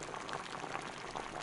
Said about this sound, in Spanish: Finalmente puso una olla con agua para poder cocer la pasta.